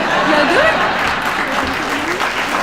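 Sustained audience applause at a school hero-recognition event, a steady, fairly loud crowd clapping with a voice briefly rising through it.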